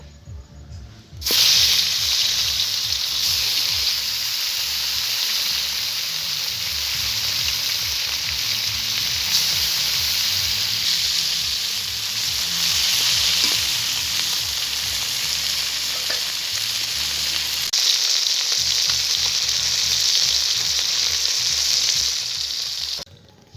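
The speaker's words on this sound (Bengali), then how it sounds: "বাকি মাছটাকেও আমি ভেজে নেব।" Vola fish frying in hot oil in a pan, a loud, continuous sizzle and crackle that starts abruptly and holds steady throughout, with occasional bursts of spitting and no voices.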